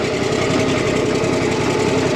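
A Caterpillar machine's diesel engine idles steadily outdoors in 15-degree cold, a continuous close, loud rumble with an even low throb and no voices.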